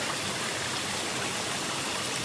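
A river swollen with heavy runoff flows in a steady, even hiss of rushing water, close and unbroken, with no voices or other sounds over it.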